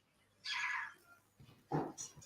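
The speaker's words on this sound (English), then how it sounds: "make cat sounds. Here's cat noises." An Alexa smart speaker plays recorded cat sounds: a short meow, then a quieter, broken mewing or growl a moment later, faint and with no talk.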